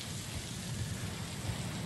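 Steady hissing rain falls in the video game Tangles, a dense, even wash of noise with a low rumbling undertone and no voices.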